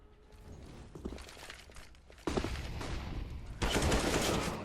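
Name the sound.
gunfire in video game Counter-Strike: Global Offensive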